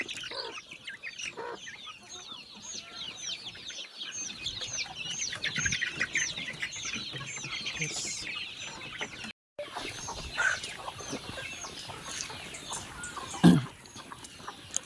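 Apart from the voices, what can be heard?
chickens clucking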